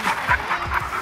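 A hunting dog pants close by during a dove hunt in a South Dakota field, quick rhythmic breaths repeating several times over a short span, no talking.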